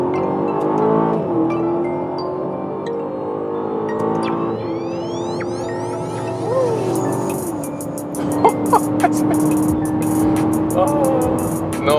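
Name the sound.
Aston Martin SUV engine accelerating in second gear, Sports Plus mode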